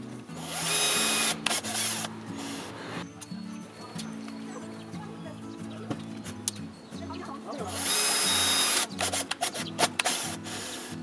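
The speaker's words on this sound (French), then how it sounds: "moi j'utilise une Vissato l'autophoreuse, mais on peut utiliser un forêt" Cordless self-drilling screwdriver driving a screw to fix a switch mount, two loud whirring bursts near the start and end with quieter handling noise and tonal hum between.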